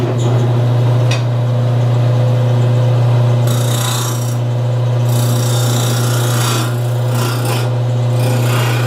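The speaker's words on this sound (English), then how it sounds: "I'm going to switch over to this round nose scraper and clean that up in there" A round nose scraper cleans the inside of a lidded wooden box turning on a lathe. The motor gives a constant low hum, and rasping scrape bursts come and go in short strokes over it.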